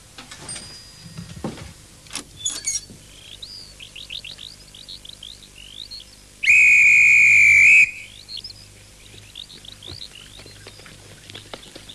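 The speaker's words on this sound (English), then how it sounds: "Blow that stupid whistle, can't you?" A sharp, shrill whistle blast held for over a second, loud and steady, with birdsong chirping before and after against outdoor background noise.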